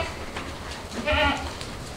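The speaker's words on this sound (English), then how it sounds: "you got goats thinking we're gonna feed them" Goats in a pen call out expecting to be fed, a single short bleat rising in the middle of the stretch over faint background noise.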